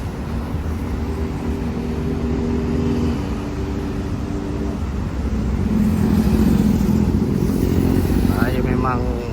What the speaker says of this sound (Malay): Naik motor besar ni. Dia dah lah panas enjin dia.